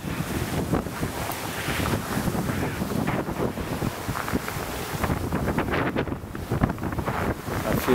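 Strong blizzard wind in Montreal buffeting the microphone in a continuous loud roar with gusting surges and rumbling low rumble, no speech heard.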